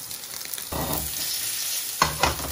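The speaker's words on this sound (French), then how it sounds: "notre pavé est en train de cuire." Rump steak sizzles loudly in a hot pan, a steady close crackle with bursts of stirring or turning around the middle and near the end, no voices.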